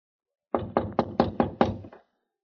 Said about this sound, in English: I walked up the stairs and knocked on the front door, never expecting an answer.